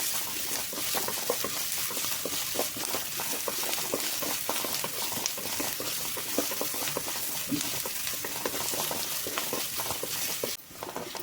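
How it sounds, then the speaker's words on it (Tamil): Onions sauté in a pan for a wheat bread sandwich, a continuous dense sizzle with crackling close by, steady throughout with no talking. "வெங்காயமும் லைட்டாக வணக்கிக்கோங்க, ரொம்ப நேரம் வணக்கணுன்ற அவசியம் கிடையாது."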